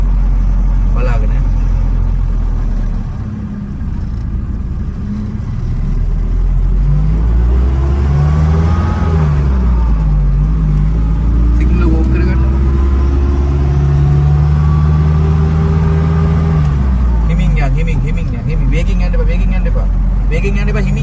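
A car engine hums and rumbles steadily during a driving lesson, rising and easing as the car moves, loud and close inside the cabin throughout.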